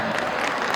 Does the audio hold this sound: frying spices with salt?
no